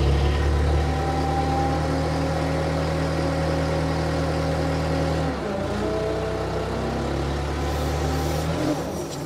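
A Hyster H65XM 6,500 lb diesel forklift engine runs steadily at a loud, close idle with a deep droning hum, dipping briefly in pitch partway through before settling back into its even running note.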